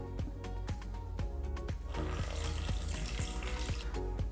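Water poured from a container into flour, salt and crumbled yeast in a mixing bowl for homemade pizza dough, a steady soft trickling splash lasting a few seconds over faint background music.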